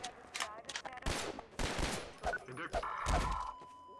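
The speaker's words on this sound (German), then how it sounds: "wie oft soll ich denn auf ihn schießen" Rapid gunfire while shooting at an enemy in Half-Life 2, with loud close bursts of shots and impacts running throughout and a voice speaking briefly among them.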